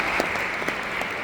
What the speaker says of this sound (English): Let's give Riway a very big round of applause.